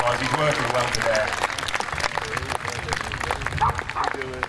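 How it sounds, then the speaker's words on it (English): Audience clapping at a bird of prey display featuring a black kite, a steady patter of applause mixed with crowd murmur and someone talking over it. "give him a bit of a round of applause"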